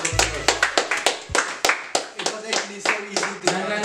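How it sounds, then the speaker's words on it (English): A small group, including children, claps for the second-place winners at a spelling bee in Namibia, giving close, sharp, uneven claps for about four seconds while voices talk over them. "Give them a round of applause."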